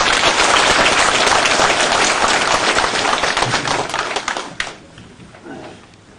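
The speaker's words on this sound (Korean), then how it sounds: "뜨거운 박수로 환영해 주시기 바랍니다" An audience at a lecture for elderly listeners applauds warmly to welcome the speaker, dense clapping that holds steady then thins out and fades over the last two seconds.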